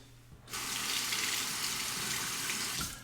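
A Fatip Grande open comb razor is rinsed under a running tap, the water switching on abruptly into a steady close gush for a few seconds before cutting off.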